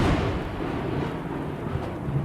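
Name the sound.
thunder sound effect in horror story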